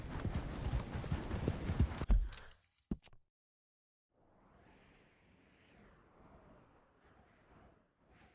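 A horse's hooves clip-clop rapidly in a gallop in the Red Dead Redemption 2 video game, loud and close for about two seconds, then cut off, followed by a quieter, steadier rumble of movement.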